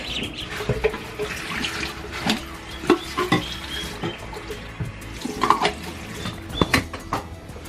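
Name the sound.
water poured into a dish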